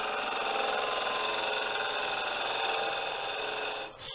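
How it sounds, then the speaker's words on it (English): A wood lathe spinning fast while a tool takes a slow cut into a rough-out faceplate blank gives off a steady, close, scraping hiss throughout. Near the end it drops briefly, then resumes. "Slow cut there, fast speed of the lathe, slow pace."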